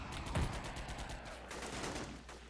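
Distant bursts of rifle and machine-gun fire crackle in a Men of War: Red Rising battle between North Korean and American forces, with dense overlapping shots over a constant noisy background.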